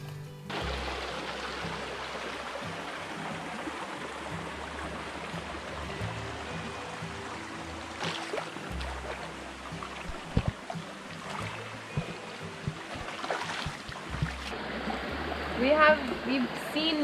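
A river in Guam flows steadily as a continuous wash of running water, with splashing and brief knocks from wading through it; a person talks intermittently over the stream.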